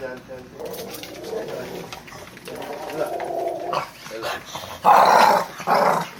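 A puppy in a small shop barks and growls in short bursts that grow louder toward the end, while people talk nearby.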